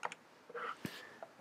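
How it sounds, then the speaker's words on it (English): A few quiet, soft key presses tap out in a short irregular sequence, faint and close, like buttons on a calculator keypad. "I'm just typing into the calculator"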